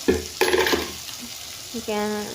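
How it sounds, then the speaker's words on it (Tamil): Onions and tomatoes sautéing in a pan with a spoon stirring, giving short scraping strokes over a low sizzle, followed by a brief tonal clatter near the end. "வெங்காயம் தக்காளிலாம் போட்டு வணக்கியாச்சு"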